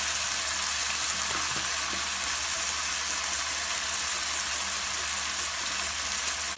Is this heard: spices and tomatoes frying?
yes